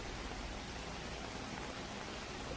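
Steady rain falling in Seoul, South Korea, a dense, even hiss with no breaks, heard alone without any voices.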